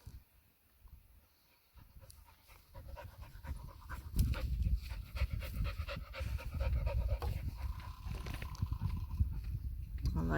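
Dogs pant in quick, rhythmic breaths close by during groundwork training, with scuffling and other outdoor noise mixed in and a voice talking faintly at times.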